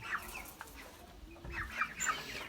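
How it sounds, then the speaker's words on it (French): Hen and rooster clucking close by in short, irregular bursts, with a couple of louder calls near the end and no talking. "Donc une poule, un coq,"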